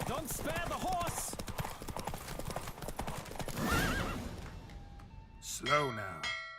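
In The Witcher 3: Wild Hunt a galloping horse's loud hoofbeats fade out, then a horse gives a clear, loud whinny near the end, with voices heard over the gallop.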